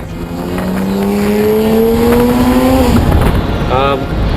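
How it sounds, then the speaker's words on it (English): A Porsche 997 GT3 Mark 1 sports car engine revs up loudly in a rising, climbing whine, then drops sharply as gears change, followed by a brief, quick burst of further revving. "this is a Porsche 997"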